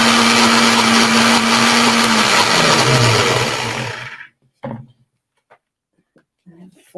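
A blender whirs loudly for about four seconds blending spinach, its motor pitch dropping as it runs, then cuts off, leaving a few faint clunks and rustles.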